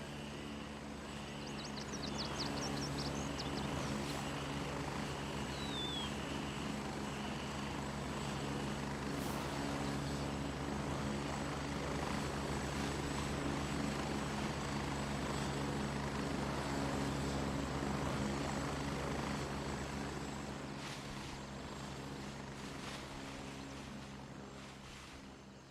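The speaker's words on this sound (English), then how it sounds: "Helicopters is loud as hell." A helicopter in a video game roars loudly and steadily, a dense rotor and engine drone holding for the whole span and fading slightly at the end.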